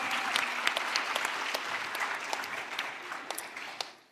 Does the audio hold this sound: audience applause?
yes